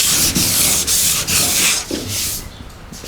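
Rough sandpaper, 80 grit, rubbed by hand with a sanding block over a car body panel on an MGA, in a series of steady back-and-forth scraping strokes, close and fairly loud, with no talk.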